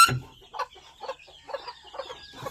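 Chickens clucking on a farm, a series of short separate clucks and calls spread across a couple of seconds, fairly close and clear, with no talking.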